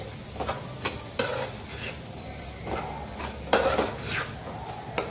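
A spoon stirs turmeric and coriander powder into a drumstick curry sizzling in a pan, with repeated scraping strokes against the metal over a steady frying hiss, close and fairly loud, without talk.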